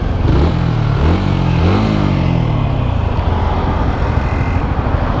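A Yamaha XSR155 motorcycle engine starts and revs a few times up close, with rising blips early on, then settles into a steady idle.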